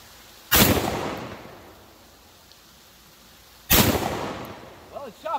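Two loud gunshots ring out at an outdoor shooting range a few seconds apart, each a sharp blast with a lingering echoing tail, followed by faint brief speech at the end.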